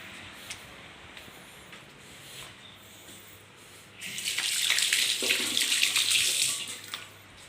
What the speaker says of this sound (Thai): ก่อนอื่นเลยไปล้างมือก่อน